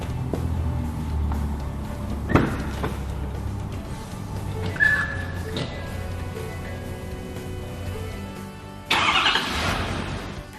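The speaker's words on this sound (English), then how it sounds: "We started the truck, we checked for leaks" Ford F350 pickup engine cranking and catching, then idling steadily with a few knocks and clunks nearby, ending in a louder burst of hiss, with no talk.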